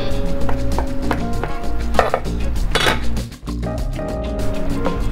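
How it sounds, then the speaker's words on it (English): A knife chops pepperoni into smaller pieces in rapid, rhythmic strikes, close and crisp, with a steady tonal hum running underneath. "now we're cutting the pepperoni into smaller pieces"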